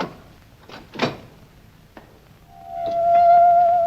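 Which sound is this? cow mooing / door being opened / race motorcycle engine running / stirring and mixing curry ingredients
door being opened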